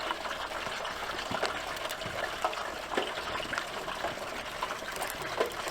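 A turkey is lowered into boiling oil for deep frying, and the oil answers with a steady, close, bubbling hiss full of small crackles and pops.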